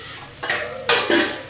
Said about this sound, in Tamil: இது வதக்கின்னு இருக்கு